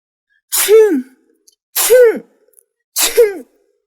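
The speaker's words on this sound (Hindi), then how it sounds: "तो उसे एक जोर की छींक आ गई।" A woman lets out a loud sneeze, heard three times in a row, each sharp burst spaced about a second apart and close to the listener, with no talking.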